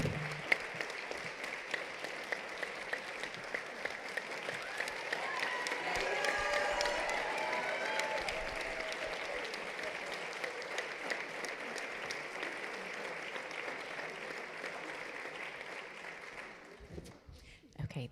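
Sustained applause at a graduation ceremony, many hands clapping steadily at moderate distance for over fifteen seconds, swelling midway then fading at the end, with voices and cheers mixed in.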